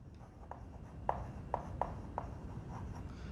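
Writing by hand during a botany lecture on flowering plant reproduction, heard as soft scratchy strokes punctuated by a few light taps, quiet and close, with no talking over it.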